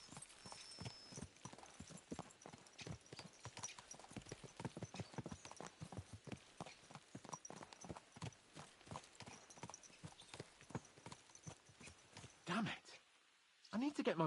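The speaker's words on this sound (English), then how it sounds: "Let's really spur these horses on, eh?" Rapid, steady hoofbeats of horses galloping in a video game, Kingdom Come: Deliverance II, a dense rhythmic clatter running nearly throughout, with a brief dip near the end.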